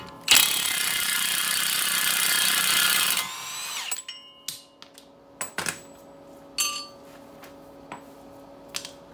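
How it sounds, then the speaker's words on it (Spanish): A ratchet wrench works loose a 32 mm hub nut on a Chevy Cruze, giving a loud, dense buzzing stretch of ratcheting that cuts off abruptly, followed by scattered sharp metallic clicks and clanks. "Ahora vamos a quitar la tuerca que es 32."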